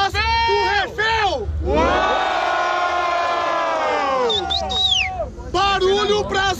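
A rap battle crowd roars and cheers for a rapper in one loud, sustained wave. Shouts and whoops swell through the middle, and an MC's voice can be heard at the start and end.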